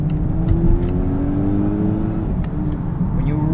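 The turbocharged 4-cylinder engine of a 2018 Volvo V90 T6 AWD R-Design revs under load from inside the cabin, a steady climbing drone with faint whirring boost and light interior rattles.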